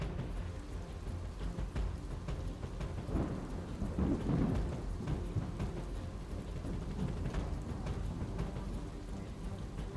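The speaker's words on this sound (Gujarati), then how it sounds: "ભારે પવન અને વીજળીના કડાકા સાથે ધોધમાર વરસાદનું આગમન થયું" A heavy monsoon downpour with strong wind and thunder across Gujarat, a dense continuous roar of rain and gusts, with deep rolling rumbles swelling in the middle, steady and loud throughout with no voices.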